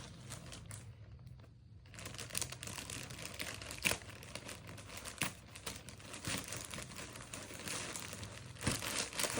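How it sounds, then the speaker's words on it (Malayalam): Plastic packaging of a Meesho bedsheet set crinkling and rustling as it is unboxed, a faint, close, irregular crackle that keeps going after a brief pause near the start. "നമുക്ക് അൺബോക്സ് ചെയ്ത് നോക്കാം"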